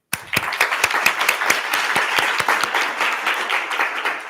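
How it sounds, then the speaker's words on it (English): Applause from a student government senate audience for committee members and chairs, a burst of sharp individual claps over steady dense clapping that runs the whole stretch without talk. "give a round of applause real quick to the current committee members and the chairs of FAO and CRT"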